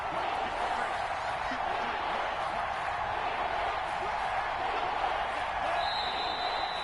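Steady stadium crowd roar from a PS4 football video game during a Titans third-down play, a continuous broadband wash of noise that holds level throughout, with no distinct cheers or spikes.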